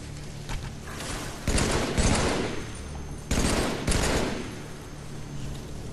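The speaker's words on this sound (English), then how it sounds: "I love the sound of a battle rifle" Battle rifle fire in the video game Halo 3 rattles out in two loud, rapid bursts of shots, with quieter game ambience before, between and after.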